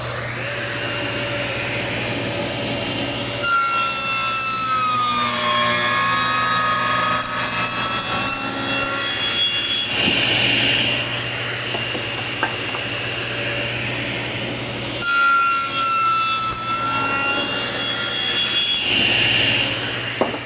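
A table saw fitted with an alternate bevel blade cuts a wooden tenon in two long passes, a loud whining rip with a gritty rasp through the wood and a steady motor hum between cuts, close and with no talking.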